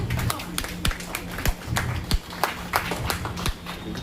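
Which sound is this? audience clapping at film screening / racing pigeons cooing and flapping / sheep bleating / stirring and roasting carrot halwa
audience clapping at film screening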